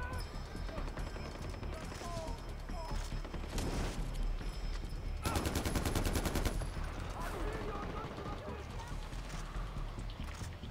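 Enemy gunfire in Far Cry 4: scattered shots, then a dense burst of rapid automatic fire midway, all under near-constant talking from a player.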